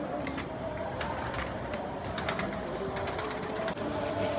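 Racing pigeons from a 105 km tournament coo nearby, repeated soft cooing over a busy background of wingbeats and scratching sounds.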